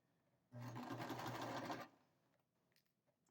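A sewing machine runs a continuous fast stitching burst of just over a second while sewing a bucket hat seam, followed by quiet handling noises, close and without talk.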